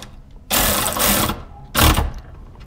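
A ratchet tightens bolts while a Hella horn is fitted to a Toyota RAV4 Prime. Two loud bursts of rapid clicking are heard, the first longer than the second, close up with no talk.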